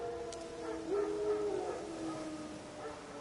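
Wild dogs howl in The Witcher 3: Wild Hunt, a drawn-out tonal howl rising and wavering for a few seconds, moderately near, with faint game ambience behind it.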